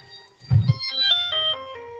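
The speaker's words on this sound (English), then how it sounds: "Wait, what was that ringtone? That was the Steel Samurai theme." A phone ringtone plays the Steel Samurai theme, a short bright melodic tune with clear sustained tones following a brief low thump, fairly close and alone with no talk over it.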